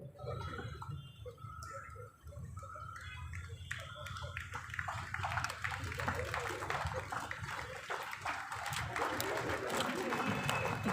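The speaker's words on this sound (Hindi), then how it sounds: "तालियां बजती रहनी चाहिए।" A crowd at a student union foundation day celebration breaks into applause that swells from scattered claps into steady, dense clapping, heard somewhat distantly with a low hum beneath.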